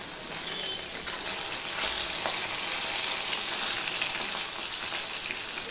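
Small bata fish sizzling in hot mustard oil, a dense, even crackle that holds steady at close range with no talking.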